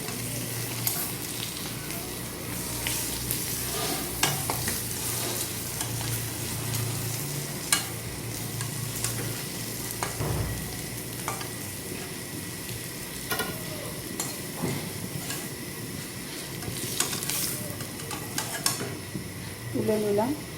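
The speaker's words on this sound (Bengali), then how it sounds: "দেখুন, মাছগুলো আমার ভাজা হয়ে এসেছে।" Bata fish sizzle steadily as they fry in a pan for a summer fish curry with pointed gourd, while a utensil scrapes and clinks against the pan from time to time, all close and continuous with no talk.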